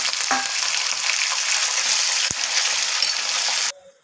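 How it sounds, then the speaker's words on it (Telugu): Chana dal, urad dal, peanuts, mustard seeds, cumin, onions, green chilies and capsicum fry in hot oil in a pan, making a loud, continuous crackling sizzle with a brief scrape before it stops suddenly. "శనగబ్యాళ్ళు వేసి కొంచెం రోస్ట్ చేసేది"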